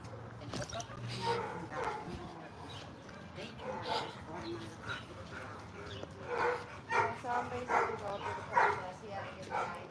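American Bully dog barking and yipping in short bursts amid people talking, the barks moderately loud and close, mixed in with steady conversation throughout.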